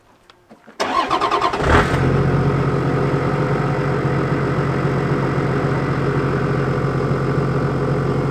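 Car engine cranking over briefly with a starter whir, then catching and settling into a steady, loud idle rumble, heard alone up close.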